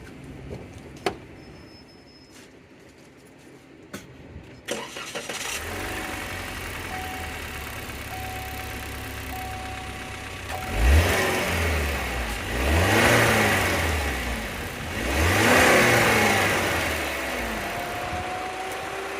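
A Cadillac ATS engine with its stock intake revs up in three rising and falling bursts after a quiet idle, with wind noise and a few clicks early on.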